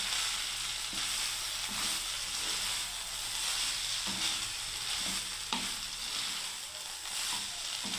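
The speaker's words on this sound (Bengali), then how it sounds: "এবার আমি ভাতগুলোকে দিয়ে দিচ্ছি বন্ধুরা" Cooked rice for veg biryani goes into a pan over a low gas flame and is stirred, producing a steady loud sizzle with repeated scraping stir strokes.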